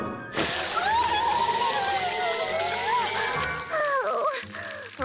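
Water gushes and splashes from a garden hose in a children's cartoon, a steady rushing spray with sloshing, while animated characters talk over it.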